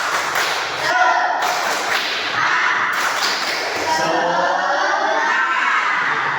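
A classroom group performs the rhythmic 'tepuk semangat' clapping chant, loud, fast, continuous claps and slaps with voices chanting along, close and energetic throughout.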